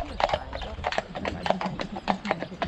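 Shire horses' hooves clip-clop in a quick, even rhythm on a hard surface during a carriage-driving session, close and clear, with a brief snort or whinny mixed in.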